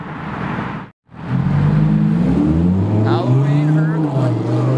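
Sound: Huracan Evo sports car engine

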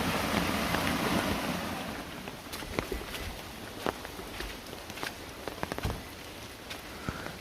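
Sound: rainwater flowing along garden edge into a stream

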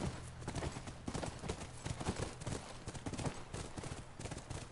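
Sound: horse hooves in a video game

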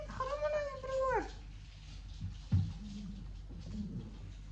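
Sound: dog growling

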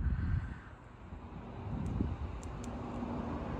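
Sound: traffic noise from a busy highway

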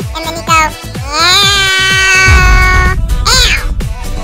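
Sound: person imitating a cat meow

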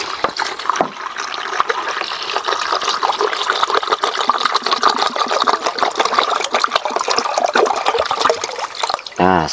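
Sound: pouring 1 liter of rice washing water

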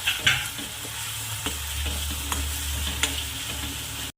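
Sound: cumin and spinach being fried in oil

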